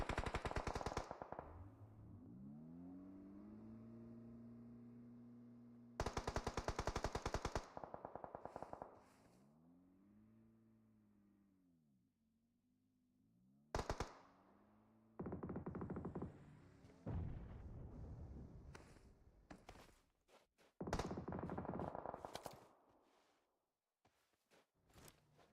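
Gunfire from a PUBG Mobile tournament match: several loud bursts of automatic fire and a few single shots come in separate clusters, with quieter gaps between them and no voices.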